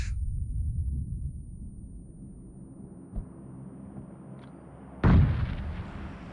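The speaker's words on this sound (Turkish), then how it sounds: "bomba falan mı atıyor bu? Evet bomba atıyormuş." Two heavy booming grenade blasts in PUBG Mobile, a muffled thud midway and a louder explosion near the end, each trailing off into a low rumble with no one speaking.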